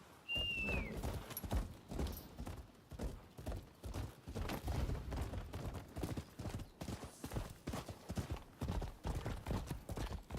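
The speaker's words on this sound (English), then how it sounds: "Horse." Hooves clip-clop in a steady uneven rhythm at moderate distance, with a brief high whistle or call near the start and faint background noise.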